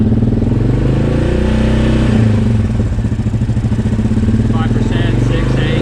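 A Yamaha Grizzly 700 ATV engine runs loud and close, its steady rumbling idle rising into revs partway through, with a faint voice audible beneath the engine.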